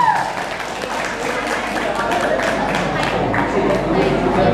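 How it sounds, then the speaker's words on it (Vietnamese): An audience applauds at a live stage performance after a child's song, a steady wash of clapping under a speaking emcee's voice. "một tràng pháo tay lần nữa cho cháu Michael Chu."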